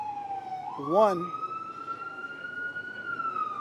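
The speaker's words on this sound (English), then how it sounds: "I'll let that ambulance go by" An ambulance siren passes during an outdoor press conference after a law enforcement shooting, holding a steady wailing tone that rises slightly, with a voice speaking briefly over it.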